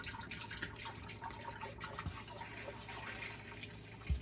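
Fat-free Fairlife milk pours from a half-gallon bottle into a pot, a soft continuous liquid trickle and splash at low level, ending with a couple of louder knocks.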